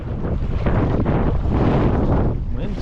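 Gusty wind roars and buffets the microphone outdoors beside a Wisconsin trout stream, a steady broadband rush with surging gusts and no clear voices.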